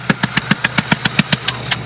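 A failing Grand Marquis engine idles rough with a steady putt-putt, evenly spaced thumps about five per second, close and fairly loud with a low hum underneath, while smoking.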